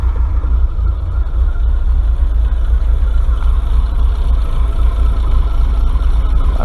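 A Rover P6 engine idles with a carburettor needing tuning, running a little lumpy after being on choke; a loud, steady low rumble with slight unevenness, heard close with no talking.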